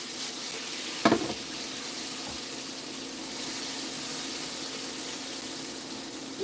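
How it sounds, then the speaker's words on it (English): Seasoned potatoes with salt and dried onion sauté in a hot pan, giving a continuous close, even sizzle, with a brief utensil scrape near the start. "When I saute potatoes, they started getting crispy"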